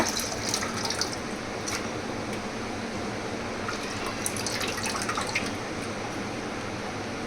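Water runs steadily from a tap while chicken pieces are rinsed and washed, a continuous close rush with small splashes and drips, no talking.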